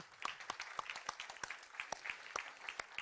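Small-group applause for a quiz winner, a light, fairly faint patter of separate claps heard steadily and alone.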